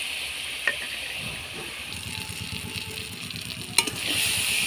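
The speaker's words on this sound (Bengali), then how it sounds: "এখন আমি লঙ্কা বাটার আর সর্ষে বাটার জল আমি দিয়ে দিচ্ছি অল্প পরিমাণে দেব জলটা" Water poured into frying chili and mustard paste sets off a steady close sizzle with bubbling and stirring scrapes, a couple of sharp clinks, and the sizzle swelling louder near the end.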